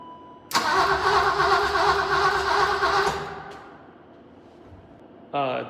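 A car engine cranks and fires up right after a timing belt repair, catching into a loud, rough run for a few seconds before dropping away; a short higher whirring burst follows near the end.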